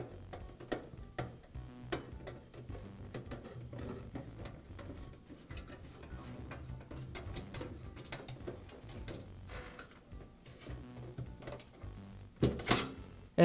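A screw is driven to fix the baffle tab of a NuTone vent fan-heater assembly during a repair. Close, quiet ratcheting and mechanical clicks come in uneven bursts, ending with a louder clatter.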